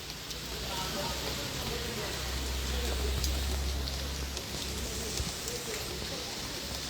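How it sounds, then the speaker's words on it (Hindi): Heavy rain falls steadily in Jammu, a dense, even hiss of downpour with a low rumble underneath, constant throughout and with no distinct individual drops. "अभी भी तेज बारिश हो रही है"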